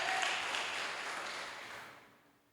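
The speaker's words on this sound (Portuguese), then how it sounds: "Você pode aplaudir ao Senhor por isso?" A church congregation applauds during a sermon, a full wash of clapping that gradually fades away to near silence at the end.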